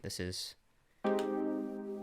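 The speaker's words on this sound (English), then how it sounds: "this is just a string with like a pluck" A short burst of speech, a pause, then a sustained plucked synth string tone ringing out with bright harmonics and slowly fading.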